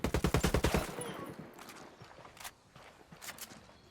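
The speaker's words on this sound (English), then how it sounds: "Taking fire from the soccer field" Gunfire comes from a soccer field in Tom Clancy's Wildlands. A quick, evenly spaced burst of rapid shots opens, then fades into faint, scattered pops and distant cracks at low volume.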